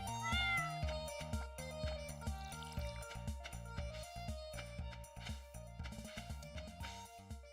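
A cat meows a few times over a dense, steady bed of music, its high calls standing out briefly near the start.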